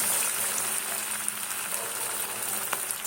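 Vegetable pakoras frying in hot oil, a steady, close hiss and crackle of bubbling oil with occasional sharper pops, heard alone without talk.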